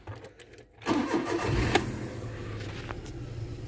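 A Volkswagen car engine, after a front steering rack noise repair, cranks and catches, then settles into a steady idle close by, with no talking.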